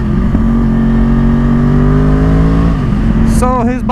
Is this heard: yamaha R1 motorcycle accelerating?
yes